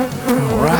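Honeybees buzzing loudly and close inside a hive, a dense continuous drone with wavering pitch.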